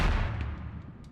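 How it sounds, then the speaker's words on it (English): An explosion from a pulsing pyro anomaly aboard a station in the game Space Station 14, heard as a heavy low-frequency boom that fades over about a second, with faint crackles after it. "So upon pulsing, it'll do an explosion."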